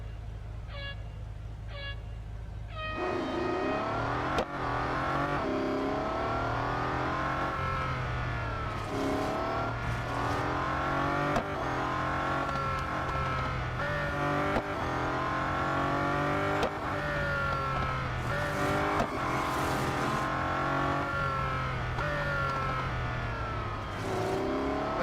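In the racing game Real Racing 3, a Bugatti Centodieci's engine starts up and revs on the Laguna Seca autocross, rising and falling through gear shifts in a continuous, fairly strong drone.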